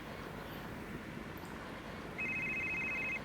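A mobile phone rings with a steady electronic tone that begins partway through and repeats as a continuous warble, heard over low room noise in an indoor scene from a Malayalam short film.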